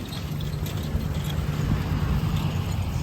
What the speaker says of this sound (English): There's a truck coming, look out